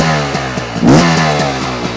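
A 2025 Beta XTrainer 300 two-stroke motorcycle engine, cold and running rich on extra oil, idles loudly and up close with a steady buzzing putter, then gives one short blip of revs during idle adjustment before settling back.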